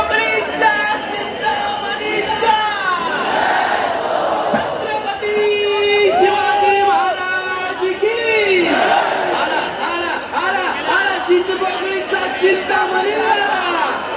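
A large crowd at the Ganpati arrival procession of Chinchpoklicha Chintamani in 2025 chants and shouts devotional slogans, with loud overlapping voices rising and falling in long calls over a constant roar of crowd chatter.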